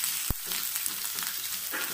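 Chopped ginger and garlic sauté in oil in a pan for a lemon pickle, giving a steady soft sizzle throughout with one brief sharp tap near the start.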